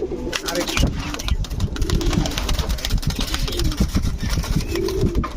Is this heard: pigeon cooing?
yes